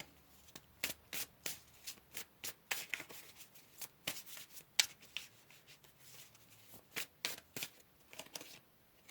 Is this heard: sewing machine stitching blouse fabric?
no